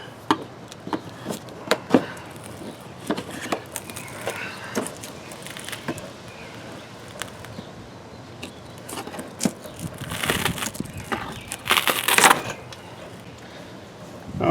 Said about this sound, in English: I'm going to take a little putty knife here and then peel the outer layer all the way off here.